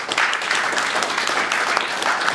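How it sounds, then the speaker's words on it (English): A crowd claps steadily and loudly throughout, a dense, continuous round of applause with no breaks. "So let's give a round of applause for Henry."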